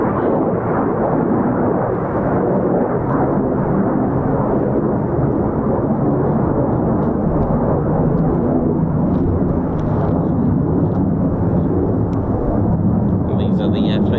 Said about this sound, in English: Some aircraft just going above us now.